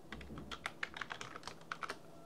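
Someone types a short note on a computer keyboard, a quick, irregular run of soft, close keystrokes with no talking.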